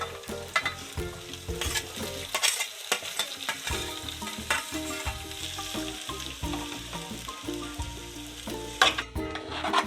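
Capsicum and onion with garlic paste sautéing in a pan, a close, bright sizzle with frequent scraping and clattering stirs of a utensil, busy and continuous without speech.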